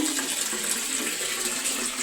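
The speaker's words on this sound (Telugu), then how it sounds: "ఇదిగో వాటర్ చూడండి ఇంకా వస్తున్నాయి" Tap water pours steadily into a household bathtub in an older family home, a continuous close hiss of running water with no pauses and no voices.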